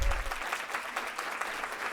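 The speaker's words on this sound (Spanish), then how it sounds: "Un aplauso, por favor." Audience members at a university lecture event applaud a speaker with even, sustained clapping that holds at a steady level throughout, with no voices over it.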